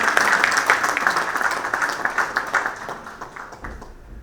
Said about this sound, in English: Can we have a huge round of applause for all of them and Mr. Mritunjay?